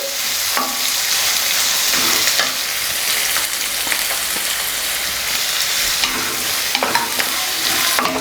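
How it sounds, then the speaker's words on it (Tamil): Chopped large onion sizzles and crackles steadily in hot oil for mushroom sweet corn gravy, with occasional scraping stirs of a spatula against the pan; close and continuous, no talking. "பொடியாக நறுக்குனா ஒரு பெரிய வெங்காயம் சேர்த்து வதக்கிடலாம்"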